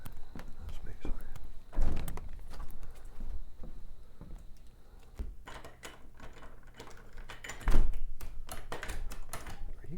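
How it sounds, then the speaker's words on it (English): A cabin door is tried and found locked with a deadbolt. Two sharp, close thunks land several seconds apart, with light rattling handling noise and quiet talk in between. "Are you telling me this door's locked too?"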